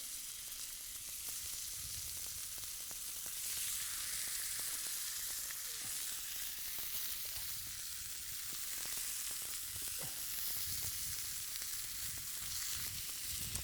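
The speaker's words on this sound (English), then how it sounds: "we'll go ahead and start to brown it and cook it in our fry pan using the leftover bacon grease" Peppered meat browning in a frying pan in leftover bacon grease, a continuous bright sizzle with scattered crackles and pops, heard close and alone throughout.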